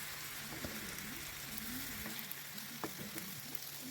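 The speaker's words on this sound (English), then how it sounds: "I'm going to let it cook until the oil separates from the tomato paste and the tomatoes take their natural red color" White onion and blended tomato paste fry in oil in a pan, a steady close hiss of sizzling with occasional soft pops and stirring scrapes.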